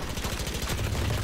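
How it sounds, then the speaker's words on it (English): Rapid automatic gunfire in a tactical shooter video game, a fast rattling string of shots that sounds somewhat distant and muted and runs steadily through the moment. "How am I getting shot at?"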